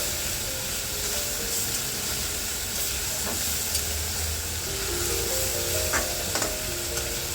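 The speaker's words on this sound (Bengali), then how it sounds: "ভালো করে মশলাটা ভেজে নিচ্ছি" Spice masala fries in a pan with a strong, constant sizzle and hiss, punctuated by occasional stirring clinks and scrapes.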